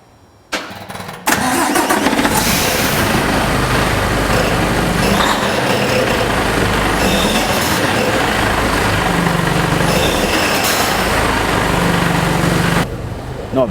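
A Mercedes Actros 1863 truck engine cranks and fires after a brief quiet moment, then settles into a loud, steady diesel rumble close by that runs on until cutting off near the end.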